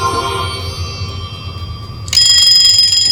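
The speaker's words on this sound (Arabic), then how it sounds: "الاستيقاظ على منبه الهاتف في الصباح" An LG V10 smartphone alarm rings close and clear with a steady electronic tone, then jumps abruptly to a louder, brighter ringing pattern partway through.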